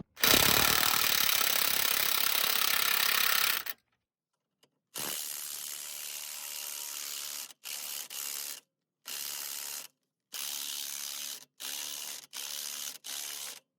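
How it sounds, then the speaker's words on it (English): Wire brushing rust off the threads of a sway bar bolt on an Infiniti EX35, a loud continuous scrubbing burst at first, then shorter back-and-forth rasping strokes separated by brief pauses. "So I'm moving it back and forth to remove the rust on the treads."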